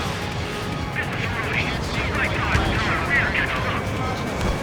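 Machine gun fire in the combat flight game Ace Combat 7 during an air raid mission, rapid rattling bursts over a continuous jet engine roar, with radio chatter voices running over the action.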